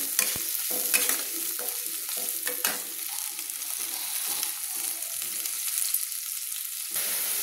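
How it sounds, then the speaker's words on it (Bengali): Chopped onions fry in hot oil in a kadai, a steady close sizzle broken by repeated scraping strokes of a spoon stirring them, with no talking. "তেল লাল লাল করে ভেজে নিচ্ছি"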